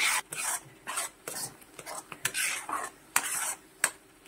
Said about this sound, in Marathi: पूर्ण आपलं सारण अशा प्रकारे एकदा फेटून घ्यायचं आहे.